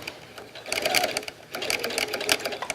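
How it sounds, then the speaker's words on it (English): A sewing machine with a walking foot stitches silk velvet slowly, running in two short bursts of rapid mechanical clatter split by a brief pause, close and fairly loud with no voices. "see how slowly I'm sewing?"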